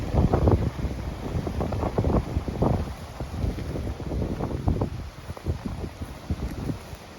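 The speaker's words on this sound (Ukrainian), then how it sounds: "якийсь дуже нездоровий вітер зранку" Strong wind buffets the microphone in loud, irregular gusts and rumbles, continuous throughout with no voices.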